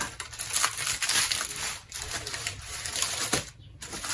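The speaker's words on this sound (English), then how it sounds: "just go ahead and remove that foil off the pan" Aluminium foil is peeled and crinkled off a baked strawberry cheesecake pan, giving irregular crackling and crumpling bursts close by, with no voices.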